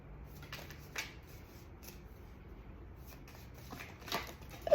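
Tarot cards shuffled by hand, with soft riffling bursts and a few cards slapping down, close and fairly quiet, with no talking.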